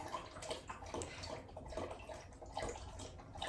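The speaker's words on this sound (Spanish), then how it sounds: "Mi perro bebe agua, ya lo sabéis," A pet dog laps water from its bowl indoors, a quiet, irregular series of wet lapping and dripping sounds close by, with no talking.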